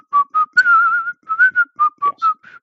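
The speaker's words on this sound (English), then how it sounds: "as they go, they whistle whilst they work." Characters in a film scene whistle a tune while working in the mountains: a clear, bright melody of short separate notes with one longer held phrase, loud and close, with no voices.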